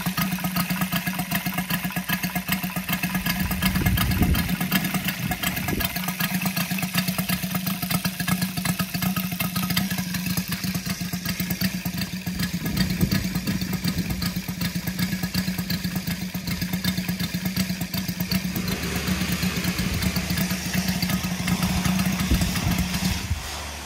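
A Saito FG-73 gas model aircraft engine, upgraded with MMM hardware and swinging a 20x10 Biela four-blade prop, runs steadily at a low idle around 600 RPM, with a loud, continuous, close-up chugging throb and no talk.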